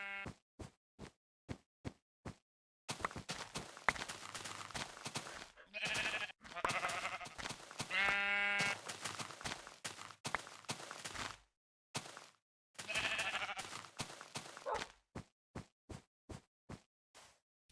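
Video game sheep bleat several times between short bursts of rhythmic clicking and whooshing game effects, with no voices.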